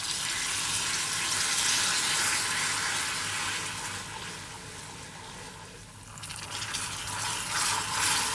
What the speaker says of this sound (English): So now we're just going to add our water in and add it slowly.